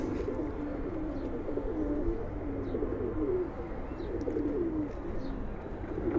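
Giribaz pigeons at a large Palla-line pigeon farm coo steadily in low, rolling, overlapping calls, a continuous flock murmur with no talking.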